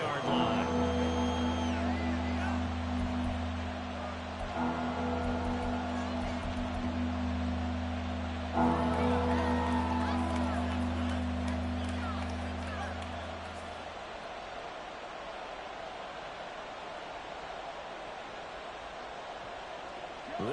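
Stadium crowd at an NFL game between the Kansas City Chiefs and the New York Jets, with a steady roar under a play-by-play announcer calling the action. The noise swells and holds for a few seconds before easing slightly.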